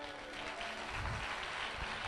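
A church congregation applauds, a dense, even wash of many hands clapping at a distance, steady and fairly faint for the whole moment.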